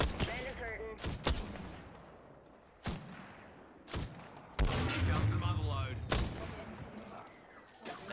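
Gunfire in the battle royale game Apex Legends: several sharp, loud shots scattered irregularly, some in quick pairs, with a denser burst midway, over a steady game background while players talk.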